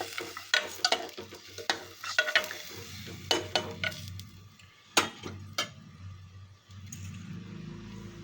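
Mutton curry simmers in a pan while being stirred, with irregular spoon clinks and scrapes against the metal over a soft bubbling undertone, fairly quiet and close.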